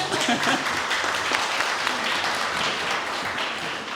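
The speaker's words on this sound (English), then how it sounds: "So give her a round of applause as well." Applause at a Chamber of Commerce DEI luncheon: a room of guests clapping in a sustained, fairly loud, dense patter for about four seconds, with a trace of voices mixed in.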